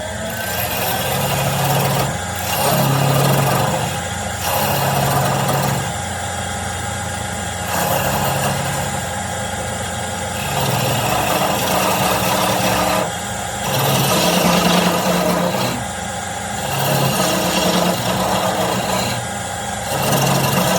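A wood lathe turning a small cherry box, worked with a skew chisel; a loud steady motor hum with rasping cutting passes that rise and fall in bursts.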